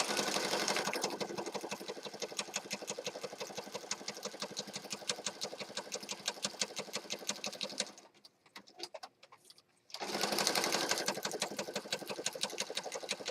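Sewing machine stitching around the outside edge of a handmade Christmas journal, a fast steady rattling hum that runs close and loud, pauses briefly for a couple of seconds, then resumes.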